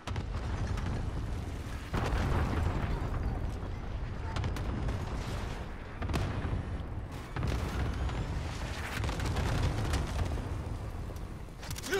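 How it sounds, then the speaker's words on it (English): Cluster strike in a video game, a run of heavy booming explosions and rumbling impacts rolling on and off over several seconds, loud and dense with mechanical clatter between blasts. "Cluster strike incoming."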